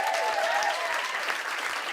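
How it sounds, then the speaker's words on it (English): Audience applause at a comedy show, a dense, steady clatter of many hands clapping without pause for the whole stretch. "give yourself a round of applause"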